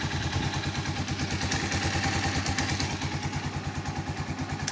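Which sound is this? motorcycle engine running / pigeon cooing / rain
motorcycle engine running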